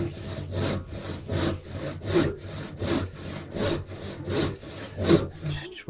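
Hand saw ripping through PVA-glued wood on a workbench stretcher, giving a steady train of about a dozen even push-pull strokes. The sawing is close and fairly loud and continues alone without any voices.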